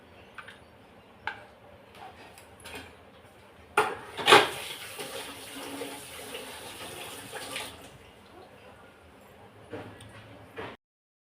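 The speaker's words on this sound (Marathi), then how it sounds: "लागेल तसं पाणी ॲड करणार आहे मी एकदम नाही करणार आहे" Water is poured into a pot of cooking vegetables for a Bhogi special bhaji, a short splashing burst rising briefly over faint kitchen clatter and light taps.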